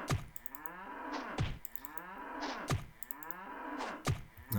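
Cows lowing in the video game Jagged Alliance 2, a series of drawn-out moos repeating about every second and a half, fairly quiet, with no talk over them.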